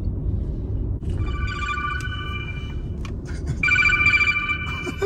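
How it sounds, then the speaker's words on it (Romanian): A mobile telephone rings with a repeating electronic melody of bright tones in short bursts, growing louder near the end over a steady low rumble of room noise. "În continuu sună telefonul"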